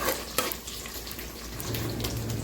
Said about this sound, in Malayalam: ഒരു രണ്ട് മിനിറ്റ് കൂടി ഞാൻ ഇത് മൂടി വെച്ച് വേവിക്കുന്നുണ്ട്